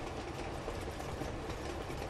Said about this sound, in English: I've got to hurry up and jump on the next train car and get low before my head gets taken off